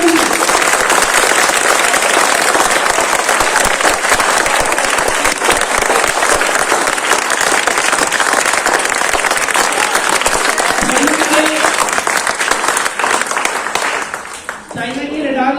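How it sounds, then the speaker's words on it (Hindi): A large crowd at a patriotic rally breaks into loud, sustained clapping that fills the space evenly for about fifteen seconds before thinning out near the end. "एक बार जोरदार ताली बजाइए।"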